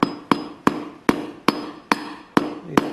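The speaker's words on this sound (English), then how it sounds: "So all I'm going to do is tap it with a hammer." Steady hammer taps on a piece clamped in a vise while building a crystal radio, about eight sharp, close metallic strikes at an even rhythm with no talking.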